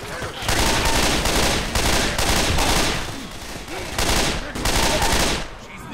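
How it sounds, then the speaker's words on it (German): Loud, sustained automatic gunfire from the video game Left 4 Dead comes in several long, overlapping bursts with brief pauses, close and dense throughout. "Ja, Mann, schieß doch nicht auf mich"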